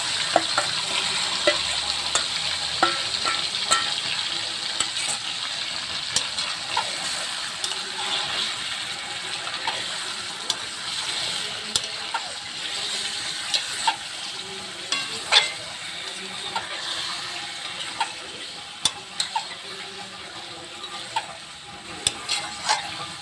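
Marinated chicken fries in a pan, a steady sizzling hiss broken by frequent scraping and clacking as a spoon stirs and turns the meat, close and fairly loud.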